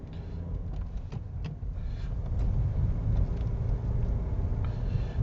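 A manual-transmission car holds second gear through a roundabout on a driving test route, its engine and road rumble rising steadily from inside the cabin with no talking.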